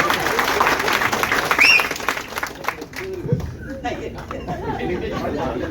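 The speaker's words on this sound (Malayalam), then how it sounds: "ഒരു നല്ല കയ്യടി അടിച്ചു" A seminar crowd at a direct-selling business event breaks into applause that fades into scattered clapping and chatter, with a voice talking over the tail end.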